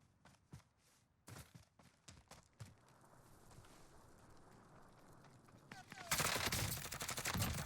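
Gunfire in the battle royale shooter Warzone: a handful of sharp separate shots early on, then a dense loud burst of rapid automatic fire near the end, with light footsteps between.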